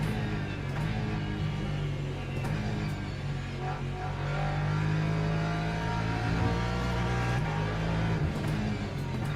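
A Ferrari race car engine in the Le Mans Ultimate racing game drones at steady high revs throughout, with small shifts in pitch as it holds speed. The engine note stays loud and continuous, with no talk over it.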